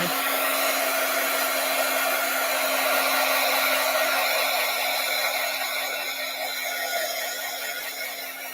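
A hair dryer blows steadily and loudly on a Halloween craft, a constant rushing whir with a faint motor hum that runs throughout and eases slightly toward the end.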